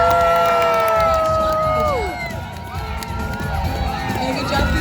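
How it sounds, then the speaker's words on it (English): Audience cheering and shouting at the Animal Actors show at Universal Studios Hollywood, a loud steady crowd roar with whoops and children's cries, mixed with voices throughout. "Make sure you cheer on nice and loud."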